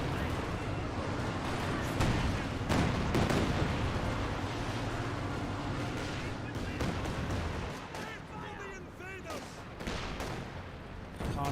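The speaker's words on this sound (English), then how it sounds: "Got a rocket barrage running on in." In Company of Heroes 2, a rocket barrage pounds away as a dense, continuous rumble of blasts and crackling fire, loud and unbroken, with explosions rolling over one another throughout.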